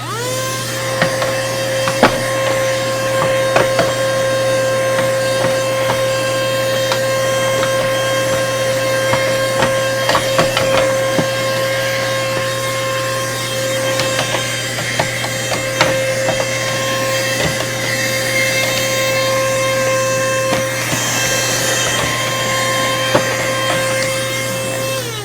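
A small vacuum whirs steadily while sucking lint out of the inside of a serger, a constant loud hum with intermittent brief scraping and clicking as the nozzle moves around.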